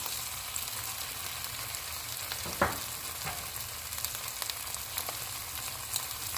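Fish curry masala paste fries in a pan, a steady soft sizzle with brief stirring scrapes, close and fairly quiet, no voices.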